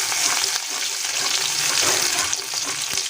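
Garlic and onion sizzle loudly in hot oil while dal is tempered, a dense, steady frying hiss that lasts the whole moment and is heard up close with no talk.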